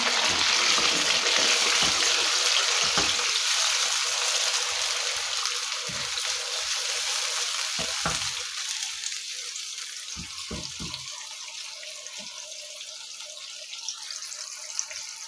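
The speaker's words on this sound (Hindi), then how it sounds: "अब मैं इसमें डाल रही हूँ 1 कप दही। दही डालकर इसकी अच्छी तरह से बुनाई करेंगे।" Yogurt is stirred into fried chicken kofta in a hot pan, giving a loud, steady hiss of sizzling that gradually fades, with a few scattered spoon knocks and scrapes against the pan.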